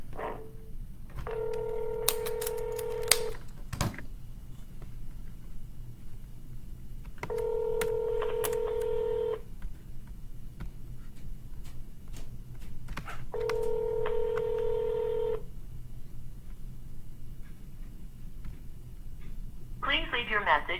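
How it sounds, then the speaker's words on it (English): Telephone keypad tones during cold calls to arrange property listing appointments: three separate bursts of rapid dialing beeps, each followed by a pause, with a brief ring and voices close by. "Let's get to the dialing."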